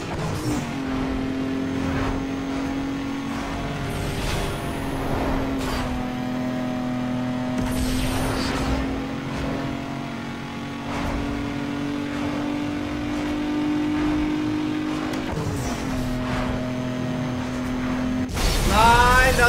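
Race car engine in Need for Speed Underground 2 during a drag race, revving up steadily through shifts with a sudden loud burst near the end, no talking heard.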